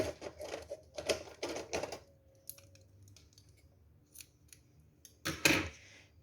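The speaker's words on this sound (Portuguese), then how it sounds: "Agora eu aumento aqui a laçada para não perder e eu vou cortar." Scissors snipping crochet yarn (t-shirt yarn) while finishing a crocheted bag: several sharp, close cutting snips, then a louder final cut, with no talking.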